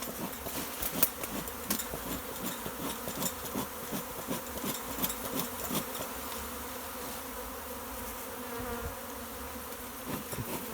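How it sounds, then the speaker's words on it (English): Calm honeybees buzz continuously around a hive box as a new colony settles in, a close, dense insect drone with a few louder fly-bys and faint knocks, no talk. "Very calm bees"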